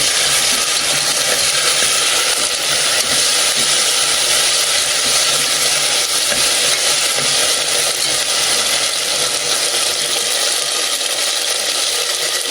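Ginger garlic paste fries in a pan with a steady, close hissing sizzle that holds evenly throughout, with no talking over it.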